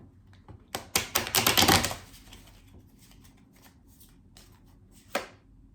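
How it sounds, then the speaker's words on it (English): Tarot cards being shuffled and pulled from a deck, a close, fast burst of riffling card snaps for about a second, then a few quieter flicks and one sharp card snap near the end. "let's pull the cards on what you should avoid during this retrograde"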